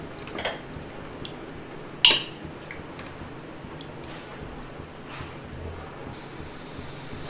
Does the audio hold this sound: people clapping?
no